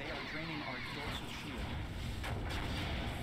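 An explosion in a space battle video game erupts with a dense, sustained roar of booming blasts and rumble, loud and continuous throughout.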